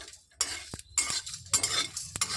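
A spoon scrapes and stirs in a pan in short repeated bursts over a light sizzle of whole spices frying at medium heat for mango chutney, with a few metal taps.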